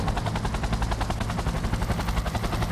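Rapid automatic gunfire in Cyberpunk 2077, a continuous fast rattling burst with an even pulse, loud and close, no speech.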